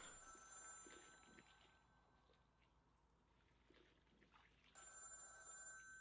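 A telephone in a video game rings in two bursts, a bright electronic trill at the start and again near the end, with quiet ambient noise between.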